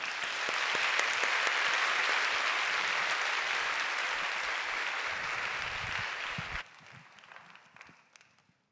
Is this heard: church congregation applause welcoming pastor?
yes